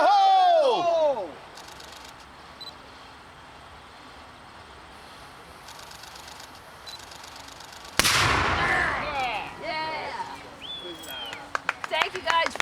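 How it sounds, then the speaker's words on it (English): A pirate-show cannon fired with a safety fuse booms once in a single loud, sharp blast, followed by crowd cheering and talking, with people speaking earlier over quiet background. "We're using a safety fuse. It's going to fizzle for a little bit, and then it'll explode."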